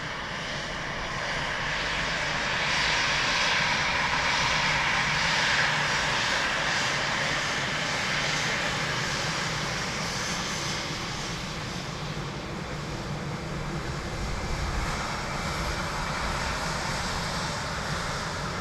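Ryanair airliner arriving at Dublin Airport, a loud continuous jet engine roar that swells and slowly eases over the full length, close and dominant with no voices.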